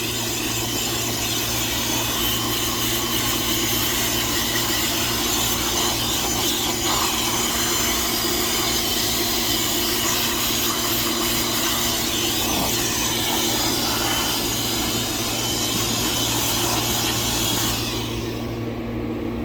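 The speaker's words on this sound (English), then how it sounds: "the first thing I'm going to do is just attack this with my blower." A blower roars steadily and loudly without pause, blasting dust out of an air conditioner condenser, its whine holding constant before easing slightly near the end.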